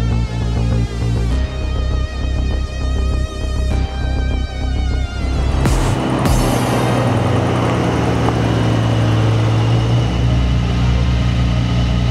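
Two performance cars, an ABT-tuned Audi RS6R and a GT Street R, crank and fire up one after another, the starters whirring in short bursts before both engines catch and settle into a loud, deep, rumbling idle.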